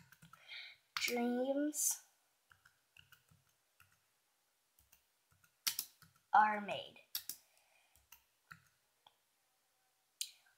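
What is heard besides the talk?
computer keyboard typing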